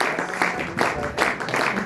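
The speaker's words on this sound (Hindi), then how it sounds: "सेलिब्रेशन ताली बजाते रहिए" Audience applause at a team rewards celebration event, a steady wash of clapping from a crowd that swells in waves across the short stretch.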